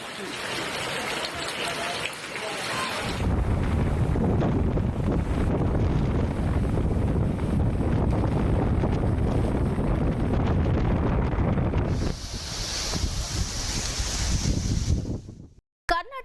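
Cyclone Montha's storm wind batters the microphone in Ongole, Andhra Pradesh, a loud, constant roaring rush. It eases slightly near the end, when a voice briefly speaks over it.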